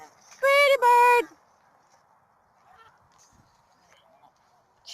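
A pet goose gives two loud, close honks in quick succession, then there is near silence with faint rustling and small sounds afterward.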